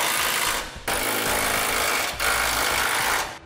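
A power tool runs down U-bolt nuts on a Curt Double Lock flip-and-store gooseneck hitch, two long loud rattling bursts with a brief pause between them, close up and without speech.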